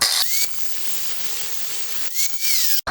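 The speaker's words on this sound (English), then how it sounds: "Now this is just a continuous rim diamond blade, and I'm just going to cut it a couple threads above the nut" A continuous rim diamond blade on a power tool cuts through threaded rod just above a nut, a steady, high whining grind that rises in pitch at the start and near the end, then cuts off sharply.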